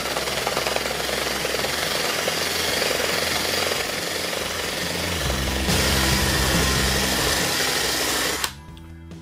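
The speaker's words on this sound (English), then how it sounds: "I've got ones already stuck in my drill here, so we just take it along here" A handheld drill spins a paint and rust stripper wheel across wood to texture it, giving a loud, steady grinding whir for about eight seconds before it cuts off abruptly into quiet.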